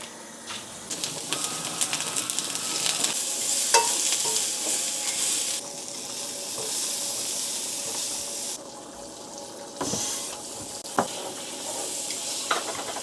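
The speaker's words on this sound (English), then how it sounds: "I just sear it on the Kirkland grass-fed butter." Meat sears in grass-fed butter in a pan, a steady close sizzle and hiss that swells at moments, with a few sharp clicks and clatters of utensils over it.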